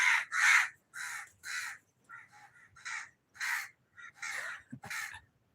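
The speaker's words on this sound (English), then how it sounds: "there's a lot of birds also singing here" Several crows caw outdoors in repeated harsh bursts, loud and fairly close, with short pauses between calls and no talking.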